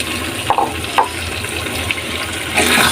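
Boiled lentils pour into a cooked masala with a wet, sloshing gush, a couple of soft splats and a utensil knock, then a fuller pour near the end, close by with no voices.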